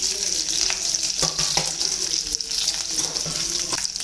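Crushed garlic, dried chillies and curry leaves sizzle in hot oil for tomato rasam, a bright, steady crackle close by with a few soft knocks from stirring.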